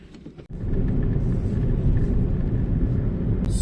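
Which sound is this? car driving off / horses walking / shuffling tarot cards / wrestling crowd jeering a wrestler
car driving off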